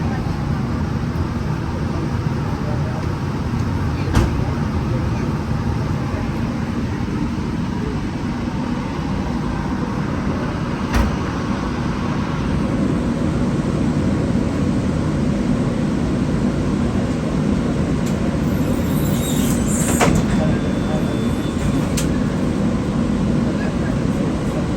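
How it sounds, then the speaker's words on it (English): Interior of a New Orleans streetcar rolling down Canal Street at a busy time of day, with a steady low rumble of wheels and motor, a few sharp clicks and bumps along the track, and faint talk in the background. "Have a look inside this streetcar."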